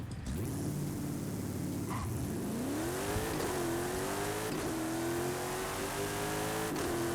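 A Land Rover Defender launches hard in Forza Horizon 5, its engine revving loud and close, climbing through a gear change and continuing to pull strongly throughout.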